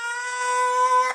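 A reversed recording formant-shifted down with Little AlterBoy and washed in Valhalla reverb: a sustained, harmonically rich tone with a steady pitch that swells slightly, then ends in a brief smeared burst and fades over about a second.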